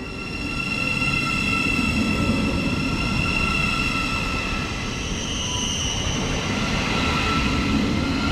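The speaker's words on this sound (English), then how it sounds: "now departing Watton-at-Stone is 717013. Heading off to Stevenage only." A Class 717 electric train, unit 717013, pulls away from Watton-at-Stone station on the Hertford Loop Line toward Stevenage, giving a steady, loud rumble of wheels and traction with sustained tonal whine throughout, no talk.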